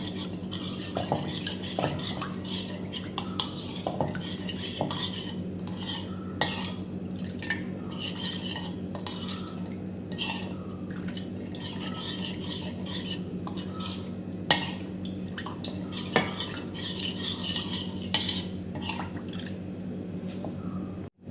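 A spoon stirs rice flour paste as it thickens in a pan on low flame, giving a continuous scraping and sloshing with occasional clinks against the metal. The sound is close and steady and carries on without talk.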